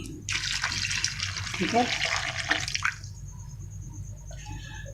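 Water poured from a container into a bowl of kebab spice mixture with coriander powder and turmeric, a close splashing, trickling stream lasting a few seconds, then drips, with a brief spoken word over it.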